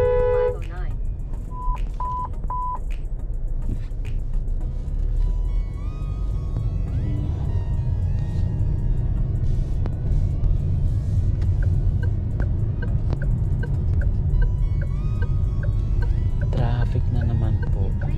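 Road traffic on King Abdulaziz Road, Route 509, in Saudi Arabia is heard from inside a moving car as a steady low engine and road rumble, with brief horn-like beeps and faint navigation tones over it.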